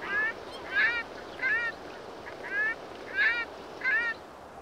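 Migratory waterfowl call across the Volga Delta in autumn, with six evenly spaced goose-like honks rising over a quiet hiss of open-air background.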